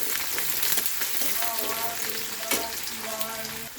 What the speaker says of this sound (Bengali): দেওয়ার পরে আমি নাড়িয়ে নিচ্ছি পেঁয়াজটা